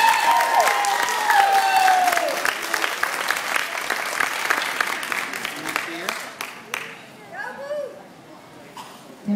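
Audience applause and cheering at a gymnastics dance performance, loud clapping with a few shouts that gradually thins and fades, while a voice speaks briefly early on.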